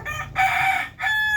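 A Darag native rooster crows on a farm, two loud harmonic calls with a short break between them, the second cut off at the end, and no talk over them.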